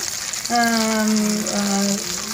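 Potato cutlets (aloo kabab) frying in a pan over a high flame, giving a steady close sizzle throughout with a brief tonal whine partway through.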